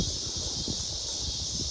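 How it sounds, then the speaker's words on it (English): Strong, steady wind gusting ahead of a severe thunderstorm in Muscatine, Iowa, a continuous rushing roar with low buffeting against the microphone and no pauses. "But it's getting really windy"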